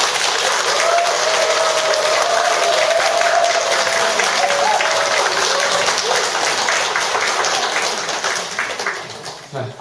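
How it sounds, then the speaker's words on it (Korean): An audience at a Buddhist gathering gives loud, sustained applause to welcome the monk Gwangwoo, with dense clapping and scattered voices, thinning out near the end. "큰 박수 부탁드립니다."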